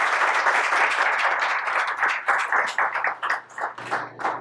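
A chef's family of brothers, cousins and sisters clapping for him at Townshend Restaurant in Quincy, a steady burst of close hand claps that thins toward the end.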